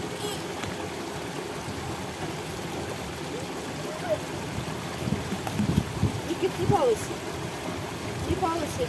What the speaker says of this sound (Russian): вы пока шум воды послушаете.